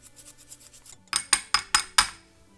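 Fresh ginger rubbed over the metal teeth of a cheese grater to press out juice, soft quick scraping strokes at first, then five sharp, louder rasps in a steady rhythm, close up with no talk.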